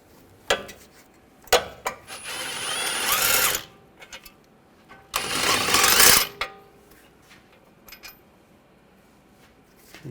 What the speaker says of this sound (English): Use an 18mm socket. Take these two caliper bracket bolts out.